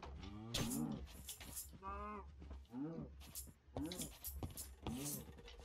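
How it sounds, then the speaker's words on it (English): Cows in the Minecraft video game moo repeatedly, several drawn-out lowing calls in quick succession, close and fairly loud, over a low background hum. "Cow, cow, come over here."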